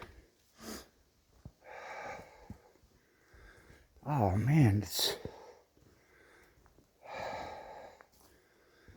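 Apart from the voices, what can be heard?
heavy breathing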